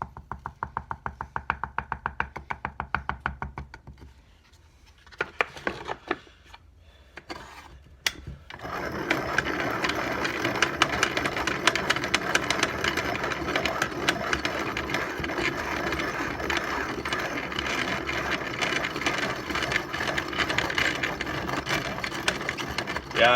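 Old hand-cranked grain mill grinding wheat for cracked wheat and bulgur: a few seconds of rhythmic clicking, a short pause with scattered knocks, then steady, dense mechanical grinding and rattling that continues to the end.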